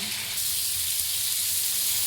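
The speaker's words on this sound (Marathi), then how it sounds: "लसूण आणि ऑनियन आपण भाजून घेणार आहोत तव्यावर" Garlic and onion, garlic still in its skin, dry-roasting on a hot tawa give a steady, close, soft sizzle and hiss with faint crackle throughout, no voices over it.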